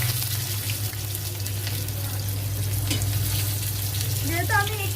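Onions sizzling in hot oil with cumin seeds for a Bengali potato and green pea dum: a steady, close crackle of frying with a few stirring scrapes.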